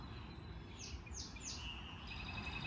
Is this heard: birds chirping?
yes